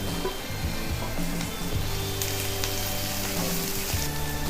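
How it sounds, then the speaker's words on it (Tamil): Green chilies sautéing in hot oil with onions and fennel seeds, a steady close sizzle and crackle running throughout with a few soft clinks, no talking. "இப்போ பச்சை மிளகாய் போடலாம்."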